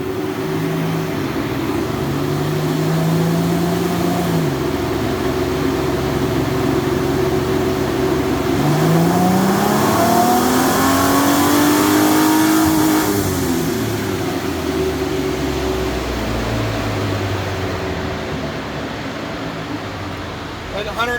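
Stock 2010 Ford Mustang with a 4.0L V6 revving up through a long dyno pull, the engine note climbing steadily in pitch to a peak and then dropping off as it winds down, loud and close with fan noise behind.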